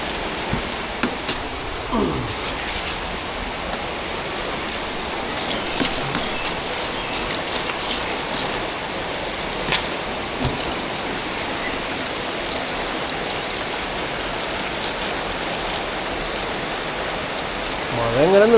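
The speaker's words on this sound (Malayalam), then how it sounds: "മഴ ഇങ്ങനെ പെയ്തുകൊണ്ട് നിൽക്കുകയാണ്" Steady monsoon rain falls in a soft, even hiss throughout, with occasional brief sounds and a slight swell near the end.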